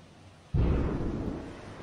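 A single loud, deep explosion from a missile fired by a cursed Thomas the Train figure bursts in suddenly after quiet and then rumbles on, decaying slowly.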